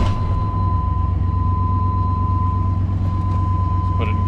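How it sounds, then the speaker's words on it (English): An old bus engine idling, a steady loud low rumble with a continuous rattle, close up and constant throughout, with a tone ringing above it. "Let me get the key so I can crank it up so y'all can hear the rattling."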